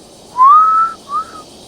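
A sharp human whistle, one loud rising and sustained note followed by a shorter, fainter second note, heard alone against a quiet outdoor background.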